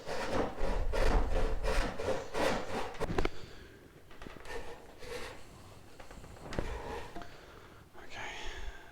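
A hand saw cuts through a wooden log in quick, rhythmic back-and-forth rasping strokes, then slows to a few rougher scrapes with pauses.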